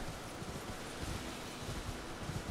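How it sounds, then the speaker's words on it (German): Steady, broad wind blows in an Elden Ring game scene. It is a constant full rushing hiss with slight gusty swells and no talk. "Hier ist es ein wenig windig."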